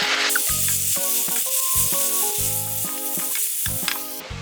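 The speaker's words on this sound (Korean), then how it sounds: "제가 꼬들꼬들하게 볶는 방법은 계속 이렇게 치대시는 거예요" Steady loud sizzling of aglio e olio pasta stir-frying in a hot pan, with repeated scraping and tossing strokes as it is stirred.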